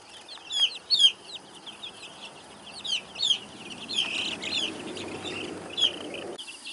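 Chickens cluck and chirp in short bursts near a coop, several birds close by, their calls scattered over a quiet background.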